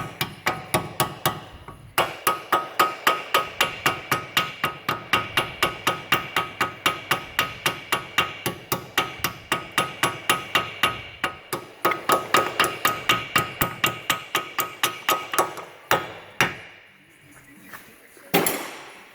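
A hammer taps a new wheel lug stud into the hub of a 2010 Chevrolet Malibu in a long, even run of sharp metallic strikes that stops briefly and ends with a few final louder blows.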